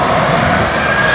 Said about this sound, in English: it's just going to be crossed over my head to land down on Hito Airport